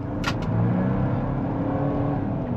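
A 2024 Ford Ranger Lariat pickup with a 2.7L V6 and 4x4 accelerates, its engine note a steady close low drone heard from inside the cab, with no talking.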